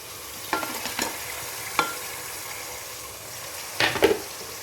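Onions and tomatoes sautéing in a pan for mutton biryani, a low steady sizzle broken by a few scraping stirs of a spoon, the last two close together near the end, with no voice.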